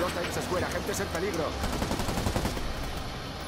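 Gunfire in the Spider-Man video game on PS4 sounds as a fairly quiet, continuous rattle of rapid shots, like machine guns in a firefight, layered with game background noise throughout.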